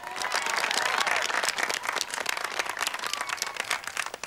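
A crowd applauds at a horse riding competition, a dense burst of clapping that starts full and gradually thins and fades over a few seconds, with no talk over it.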